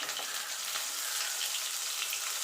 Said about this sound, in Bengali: বেগুনটা তাড়াতাড়ি ভাজা হয়ে যাবে